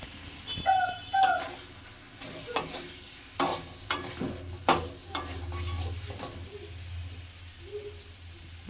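Spices and crushed fried rohu fish head cook in a pan, with a series of sharp spatula scrapes and knocks over a soft sizzle, close and fairly loud.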